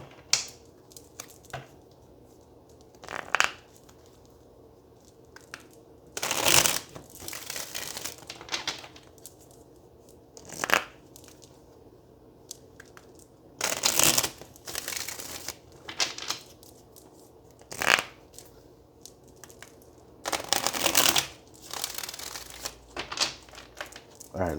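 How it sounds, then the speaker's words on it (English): Tarot cards are shuffled in repeated bursts of crisp riffling and flicking, close and fairly quiet, with soft handling noises between. "let's get one more shuffle and then we'll cut the deck"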